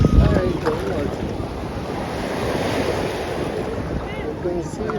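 Sea surf rolling in at JBR Beach in Dubai, a steady broad wash of breaking waves mixed with wind buffeting the microphone, loud and close throughout with no talk.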